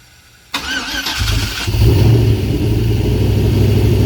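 A turbocharged LS-swapped Cadillac cranks over with a starter whir, catches after about a second, and settles into a loud, steady, rumbling idle close by.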